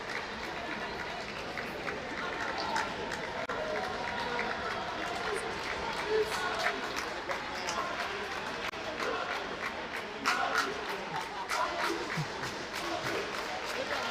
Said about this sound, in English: The crowd's urging her to serve.